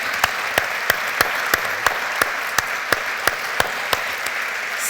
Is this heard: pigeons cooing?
no